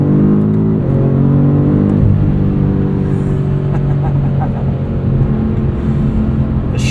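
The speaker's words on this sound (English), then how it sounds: "The shifts from this 8-speed auto are just ferocious sometimes." A 2022 BMW M5 CS pulling hard under steady, loud engine drone from inside the cabin, its 8-speed automatic snapping through a quick upshift early on.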